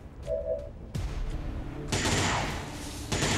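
Suppression gunfire in the tactical strategy game XCOM 2, several short bursts of automatic fire, loud and close, coming in separate volleys with brief pauses between them.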